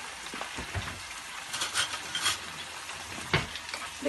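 Spinach and eggplant curry cooking in a pan, a soft steady sizzle with scattered clinks and stirring scrapes, fairly quiet and close.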